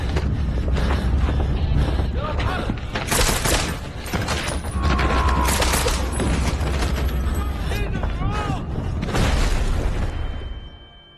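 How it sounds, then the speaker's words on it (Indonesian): Gunfight inside a building in a film, with dense rapid gunfire, booms and mechanical clatter running loud and continuous through the whole stretch. "di mana sedang terjadinya baku tembak di dalam sebuah gedung"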